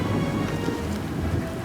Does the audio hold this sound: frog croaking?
no